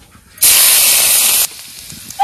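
Spices hit hot oil left from frying fish and set off a sudden loud, bright sizzle that lasts about a second before it drops to a softer background crackle.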